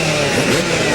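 Supercross motorcycles at the starting gate of the 2001 AMA Supercross Houston main event, a loud massed engine drone with revving rising and falling in pitch, close and continuous over one second, with no voices audible.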